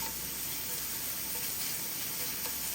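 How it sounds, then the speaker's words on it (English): Garlic and onions fry in a pan, giving a dense, continuous close sizzle that stays even and loud throughout a short stretch. "We're going to incorporate our garlic with the onions."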